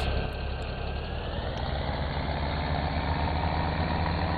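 A tractor engine idles and runs in Farming Simulator 17, a steady low mechanical drone throughout with a couple of faint high clicks near the start and no speech.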